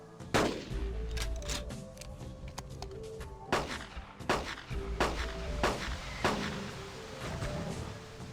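Repeated gunshots ring out while hunting Carnotaurus in the video game Carnivores, about six sharp blasts at irregular intervals with ringing tails over a steady outdoor ambience.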